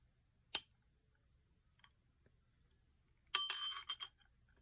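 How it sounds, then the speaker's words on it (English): A naval brass ship's dinner bell rings out clearly, first with a single sharp strike, then after a pause with a short cluster of bright rings that fade quickly, alone in otherwise quiet surroundings. "here's our lovely bell."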